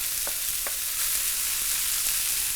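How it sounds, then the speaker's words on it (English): Cauliflower rice frying in a heated pan, a soft steady hiss of sizzling with a few faint clicks, fairly quiet and without talk. "Then I'm gonna take the cauliflower rice, put it in the heated pan"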